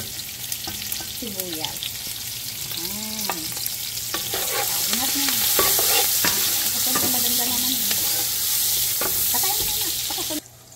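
Ginger and onion sizzling in a pan for Filipino arroz caldo, stirred with light scrapes under a constant fry that grows a little louder partway through, while a voice talks over it.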